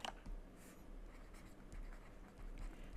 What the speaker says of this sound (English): So let me write that gradient.